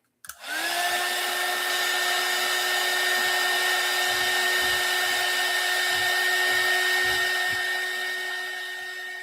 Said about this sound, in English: and then we'll use the heat gun